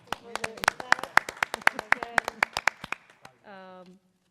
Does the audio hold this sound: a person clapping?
yes